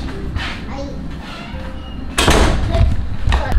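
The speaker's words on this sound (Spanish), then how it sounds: "Cierra la puerta ahí." A door shut indoors during a children's clown-themed skit, landing as a sharp slam midway after child speech, followed by continued talking.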